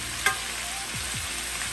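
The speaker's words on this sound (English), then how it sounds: "We're going to stir them up." Peppers and onions frying in a pan, a steady close sizzle with a sharp clink of a utensil near the start and brief scraping as they are stirred.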